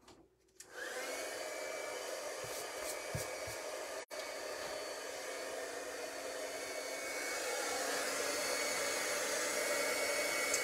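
A heat tool blasts a steady, loud whoosh of hot air to dry ink on a stamped card, running continuously with a brief cut near the middle and growing slightly stronger toward the end.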